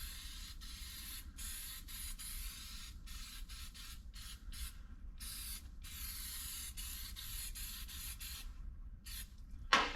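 Aerosol spray paint hissing in repeated close bursts as a heavier second wet coat goes onto old car door panels, with short gaps between passes over a low steady background rumble.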